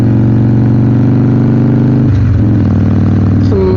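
A Harley-Davidson Sportster 1200 motorcycle engine running loud and close with a deep, steady rumble on a country road ride, then a shift in pitch partway through as it changes speed.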